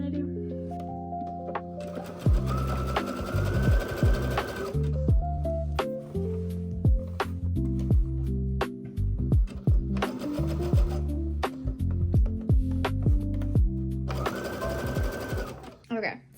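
Embroidery machine stitching a design onto a sweatshirt, a close rapid mechanical whirring in several long runs separated by pauses, with music underneath.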